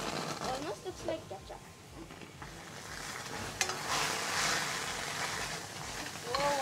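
Tomato puree sizzles and hisses as it is stirred in a hot pan during an interactive cooking session at a resort in Gokarna, a steady frying crackle that swells midway, with people talking over it.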